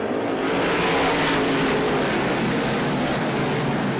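Race cars roar past on a short-track oval during a motorsports event, a loud, continuous blur of engines and road noise with no voices.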